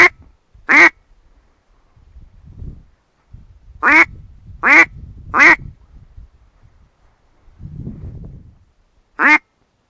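Swans give six short, bright honking calls in scattered bursts, carrying across open air over a quiet low rumble.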